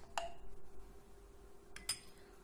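A spoon clinks against a bowl while olive oil is mixed in, with two sharp, bright clinks, one near the start and one near the end, separated by quiet stirring.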